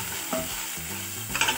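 Garlic and onion frying together in a little oil in a pan, a continuous close sizzle broken by a few scraping stirs of the spatula.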